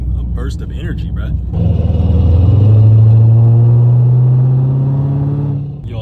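A car's drive shaft rumbles loudly while driving, a deep droning growl that swells after someone speaks briefly at the start and then fades near the end.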